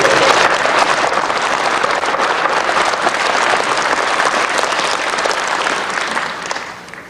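Loud, steady applause from a church congregation fills the room at the close of a service, a dense wash of clapping that holds level before thinning and fading near the end.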